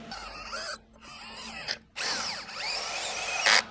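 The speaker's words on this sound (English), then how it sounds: "then you can drill straight into your post" A power drill whirs in short bursts, pausing and restarting, then runs steadily as it bites into a wooden post while installing a folding operable wall, close and loud.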